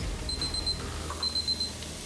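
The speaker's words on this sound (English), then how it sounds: "I'm going to put the timer on again." A kitchen timer being set while cooking, giving two short runs of quick high beeps separated by a pause, fairly faint over a low background hum, with no talking.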